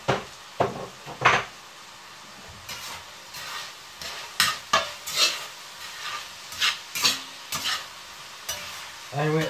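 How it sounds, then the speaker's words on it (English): Seasoned tomato sauce for pasta being stirred in a pot, with a run of distinct, fairly loud scraping and knocking spoon strokes in an irregular rhythm over a soft sizzle, close up and without speech. "So let's give that a stir."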